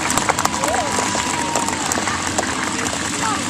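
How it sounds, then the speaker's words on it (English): Audience applause for a White Helmets motorcycle display rider at a live show, a steady wash of clapping from a crowd outdoors, loud and continuous, with people talking underneath. "how about we give him a big round of applause for trying there"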